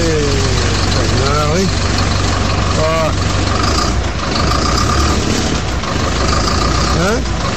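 Loud, steady rumble of a large Mercedes-Benz 2420 bus engine idling nearby, with people talking over it in short bursts.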